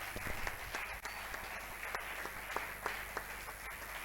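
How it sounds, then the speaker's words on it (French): A church congregation applauds together, a steady wash of clapping with sharp individual claps standing out, continuous and fairly full throughout without speech. "Pendant qu'il avance, nous acclamons."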